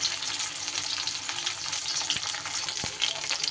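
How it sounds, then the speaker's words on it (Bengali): Pointed gourd frying in hot mustard oil, a dense even sizzle with faint crackles and a couple of light knocks, close and steady, no voices. "পটলগুলো একটু হালকা লাল লাল করে ভেজে নেব।"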